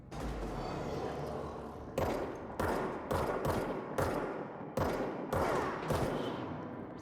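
Gunshots in the video game Control ring out as a series of sharp, loud reports, spaced irregularly in bursts of one or two, each with a short decaying tail, close and dominant.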